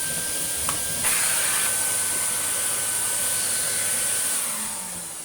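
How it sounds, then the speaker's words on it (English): A Vax 6130SX vacuum cleaner, fully refurbished and fitted with a new hose, runs steadily with a loud continuous hissing whine that starts abruptly and holds, then slightly fades near the end. "We can even actually do some vacuuming now."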